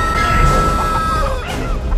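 A chicken clucks and squawks in the video game Chicken Feet, loud and close, with a brief crash-like burst partway through the short stretch.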